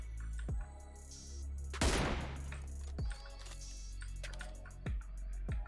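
Gunfire in the online shooter game PUBG Lite, with several sharp single shots spread across the clip and one louder, denser burst of rapid fire near the start, over a steady game background hum.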